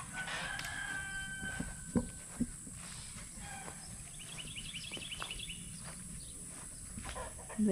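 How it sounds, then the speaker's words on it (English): Chickens cluck softly in a garden while a rooster crows in the background, with a few sharp knocks and a quiet, fairly distant overall sound. "Little trespassing chickens."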